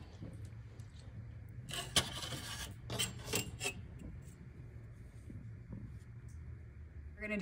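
A metal scribe drawn against a straight edge scratches marks onto a refrigerator slide mount, making a few short, quiet rasping strokes over a faint steady background hum.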